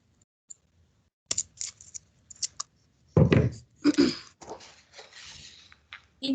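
Scissors snip through a length of holiday craft ribbon in several crisp cuts, starting after a quiet pause, close and moderately loud, with short rustles of ribbon between the snips and no talking.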